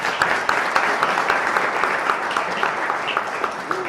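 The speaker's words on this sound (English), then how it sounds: "I would like you all to give him a round of applause," An audience at an awards dinner breaks into sustained applause for a president, a dense, steady wash of many hands clapping close by with no voices over it.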